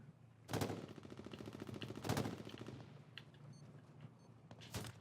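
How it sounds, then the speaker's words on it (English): Grenades go off in a shooter video game: two loud blasts about a second and a half apart, with rattling gunfire between them and a third burst near the end, all fairly quiet overall. "Me throwing grenades."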